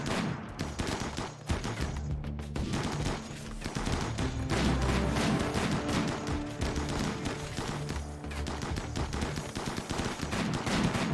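Sustained RimWorld firefight with dense, overlapping gunshots and rapid bursts crackling nonstop over a background music bed, loud and close throughout with no talking.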